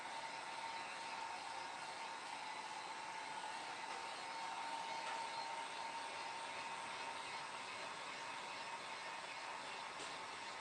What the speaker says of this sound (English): I love the heat gun